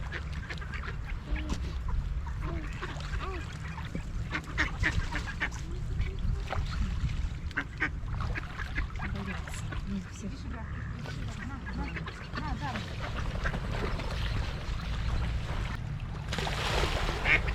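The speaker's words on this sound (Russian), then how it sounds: "посмотрите здесь сколько уточек" Ducks quack intermittently on a pond in Miory, amid a busy outdoor background, with people talking nearby over the birds.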